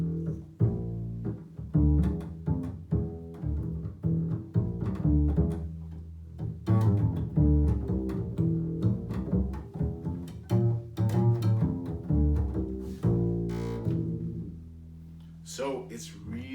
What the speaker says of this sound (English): It's called the upright bass, or the stand-up bass